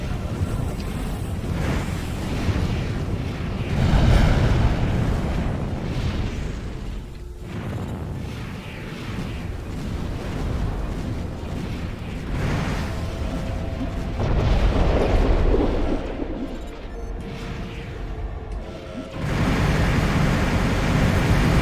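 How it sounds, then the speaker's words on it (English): Missile explosions in Armored Core: For Answer PVP combat, a dense series of heavy booming blasts rolling into one another, loud and near, with brief lulls around the middle before the barrage resumes. "point blank missiles"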